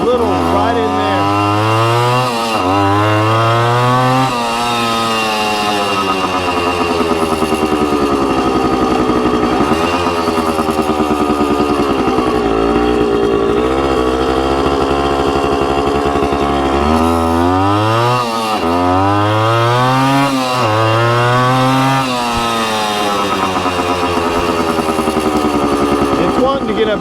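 A Suzuki TC-90 motorcycle with a freshly cleaned carburetor runs close by, its small two-stroke engine revving up and down in repeated rising and falling blips over a steady idle, loud and continuous.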